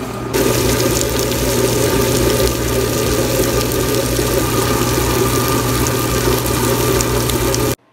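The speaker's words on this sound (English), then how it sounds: "I'm gonna go ahead and grind dal as well as poha and the fenugreek seed." A kitchen wet grinder churns dal, poha and fenugreek seeds with a little water, producing a steady, loud, continuous motorized whir and slosh from start to finish, then cutting off abruptly.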